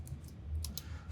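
A few light computer clicks from Option or Alt clicking, several quick faint taps spaced across about a second, close and quiet.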